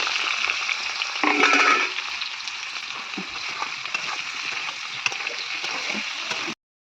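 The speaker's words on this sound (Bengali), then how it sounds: "সিদ্ধ করা এঁচোড়, তো এটাকে এখন ভেজে নেব। তেলের মধ্যে দিয়ে দিলাম।" Boiled green jackfruit frying in hot oil gives a steady, close crackling sizzle throughout, with a louder burst of spattering early on as the pieces hit the oil.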